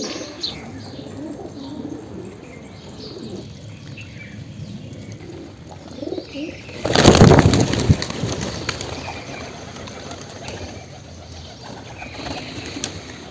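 Pigeons in a rooftop coop, some of them sick with colds, coo softly in scattered low calls, with a louder burst of wing flapping or scuffling midway.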